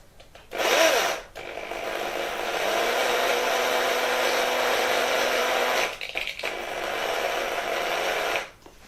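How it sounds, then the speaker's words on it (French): A small rotary drill bores holes in dried coquillettes pasta: a short whir, then a long, steady motor drone lasting several seconds that briefly stops, restarts and cuts off, close and fairly loud. "Il faut maintenant qu'on perce les coquillettes."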